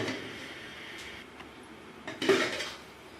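A metal lid is set down on a pot of pumpkin curry so it can cook covered on low heat, giving a short clatter and clink near the end over quiet kitchen background noise.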